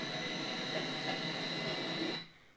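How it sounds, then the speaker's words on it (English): A train pulls into a busy station with a loud, continuous rumble and a faint high metallic whine. The noise stays steady, then cuts off abruptly near the end. "Okay, let the train arrive."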